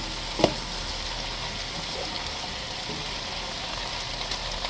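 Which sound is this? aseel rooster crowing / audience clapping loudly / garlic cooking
garlic cooking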